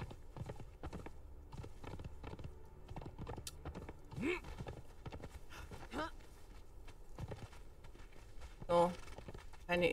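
Horse hooves clip-clop steadily while riding in Conan Exiles, Isle of Siptah, a busy rhythmic patter mixed with game sounds and a voice talking over it.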